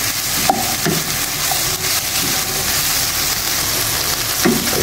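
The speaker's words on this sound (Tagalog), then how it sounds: "Ayan, haluin lang natin ang haluin." Sisig stirred in a hot frying pan: loud, continuous sizzling with scattered spatula scrapes and taps against the pan, no voices over it.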